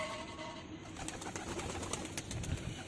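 Pigeon cooing among a flock kept on a rooftop during heavy rain, soft low coos under a steady broadband wash of rain and background hiss, faint and repeated.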